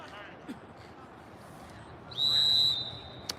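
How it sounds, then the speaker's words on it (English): A sharp, sustained referee's whistle blast of about a second at a junior varsity boys lacrosse game, loud and clear over a murmuring crowd, with a few scattered thumps around it. "on the referee's whistle."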